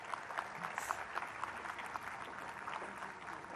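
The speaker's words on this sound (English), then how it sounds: "so a round of applause for her" Audience clapping at the Businessman of the Year 2009 awards ceremony, steady moderately faint applause sustained throughout with a few brighter individual claps standing out.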